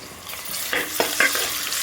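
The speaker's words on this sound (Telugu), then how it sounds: "ఆనియన్స్ ఇలా వేగిన తర్వాత ఫ్రెష్గా చేసుకున్న అల్లం వెల్లుల్లి పేస్ట్ వేసుకోవాలండి" Ginger garlic paste frying in hot oil with browned onions and green chillies for a country chicken pulao, with a steady sizzle and several distinct scraping stirs of a spoon through the pan.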